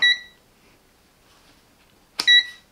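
A Parkside PDAM 300 A1 digital multimeter gives two short, sharp electronic beeps, one at the start and one near the end, close and clear with near silence between.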